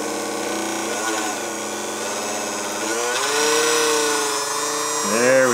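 Electric motor of a vintage sewing machine running during a run-in after cleaning crud from between the brushes and rotor, a steady buzzing whir that shifts pitch and speed a few times, close and loud.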